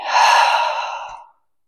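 A single long, breathy exhale during a prenatal Pilates upper-body session, loud and close, with airy noise that fades out after a second or so.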